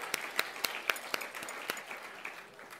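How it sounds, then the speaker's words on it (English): Small audience at an art-centre talk giving a brief round of applause, a handful of distinct claps at first that blur into a softer patter and fade within a few seconds. "So here's a round of applause for you."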